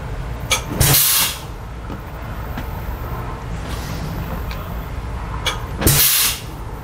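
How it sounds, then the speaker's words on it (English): A motorhome's air brakes release two loud hissing bursts about five seconds apart, over a steady low engine rumble up close. "I'm gonna press the brakes in our motorhome"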